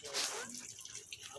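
Water running from a household tap, a brief, fairly faint rush of flow with a slight splash that swells early and then settles into a softer, steady trickle.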